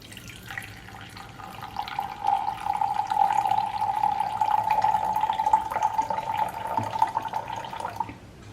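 Hot palm jaggery coffee pours in a steady stream with a bright, liquid trickle for about eight seconds, close and fairly loud, over faint kitchen background noise.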